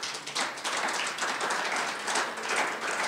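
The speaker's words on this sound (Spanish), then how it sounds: "Denle un aplauso al Señor." A church congregation applauds during a sermon, giving a fairly quiet but steady run of clapping with distinct individual claps heard close by.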